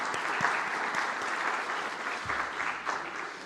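A conference audience in Warsaw's Warsaw Room gives steady applause, a dense wash of many hands clapping at a moderate distance that holds throughout with no one speaking.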